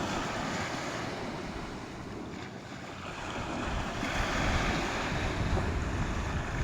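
Ocean surf rolls and washes continuously at the shore, mixed with gusty wind buffeting the microphone; no voices.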